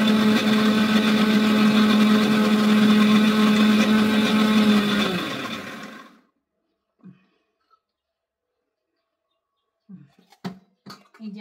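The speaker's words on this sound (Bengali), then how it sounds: "এখন আমি এটার মধ্যে পেঁয়াজ ছাড়বো আর আদা ছাড়বো, ছাড়িয়া এটারে গ্রাইন্ড করবো।" A kitchen grinder whirs loudly and steadily for about five seconds, blending onion and ginger into a paste for Bengali hilsa bhapa, then spins down into silence broken only by a few faint knocks and clicks.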